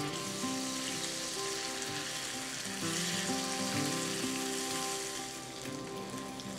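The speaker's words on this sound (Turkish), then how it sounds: "1 yemek kaşığı tereyağı ilave ediyorum." Butter hits melted caramelized sugar in a pan and sets off a steady, fairly quiet sizzle. The bubbling crackle is dense and continuous and swells slightly midway, with no voices over it.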